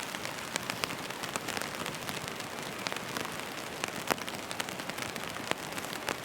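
Heavy rain pelts a tent and tarp at a campsite on New Zealand's west coast, a dense, steady hiss with sharp close drops pattering on the fabric throughout.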